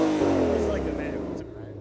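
A factory Ford GT500 Mustang with a 760 hp V8 revs hard, a loud sustained roar that tapers off over about two seconds, with people talking over it.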